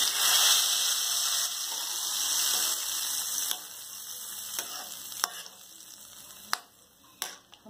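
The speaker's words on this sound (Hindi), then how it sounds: "अभी आप फ्लेम बंद कर दीजिए और ये तड़का उसमें आप ऐड कर दीजिए।" Hot tadka with whole red chillies and ground red chilli sizzles into kadhi, a soft steady frying hiss that fades over several seconds, broken by a few sharp clicks and taps near the end.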